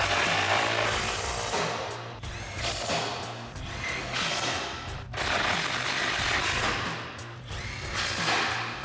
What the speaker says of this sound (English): Now we're going to tighten all these bolts down again with our 17mm socket.